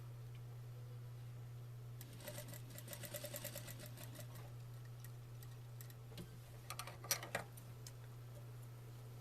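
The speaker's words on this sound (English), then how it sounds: "now I'm just going to sew these 2 pieces of fabric together with about 1/4 inch seam allowance." Sewing machine stitching two pieces of fabric together with a quarter-inch seam for a corded pillow, running in a few quick bursts of rapid needle clatter over a steady low hum, close and fairly quiet.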